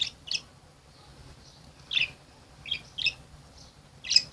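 Pet sparrows kept at home give short, bright chirps in a few separate bursts against a quiet room, fairly close and clear with no talking.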